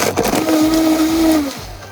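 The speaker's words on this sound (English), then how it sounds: "We put it in the blender." A loud, close blender whirs through a protein shake with ice cubes, the motor rising to a steady pitch for over a second before winding down.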